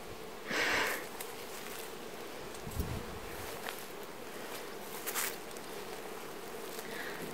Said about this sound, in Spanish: ¡Qué muchas abejas!